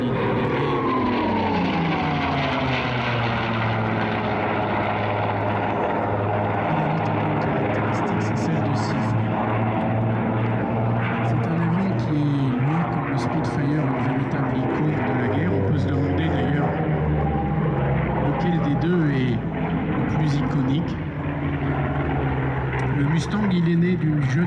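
The propeller warbirds P-38 Lightning, F4U Corsair and P-51 Mustang fly past at an air show. Their loud, continuous engine drone rises and falls in pitch for the whole stretch, with someone talking over it.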